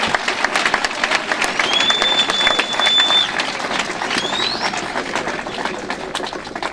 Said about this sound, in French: Bobetela bango maboko makasi.